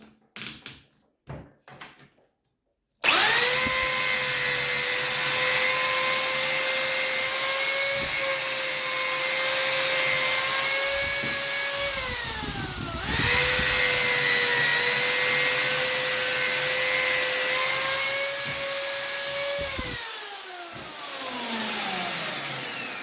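A Parkside PSBM 1100 B1 two-speed hammer drill with a 10 mm wood bit whines steadily as it bores into wood, running loud and continuous for about seventeen seconds with a brief dip in pitch midway, after a few short knocks.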